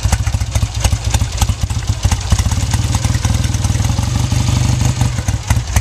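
1966 Triumph Bonneville motorcycle engine idling low just after a cold start, a loud, close, even rapid thumping pulse with mechanical clatter that steadies as it runs, no talking.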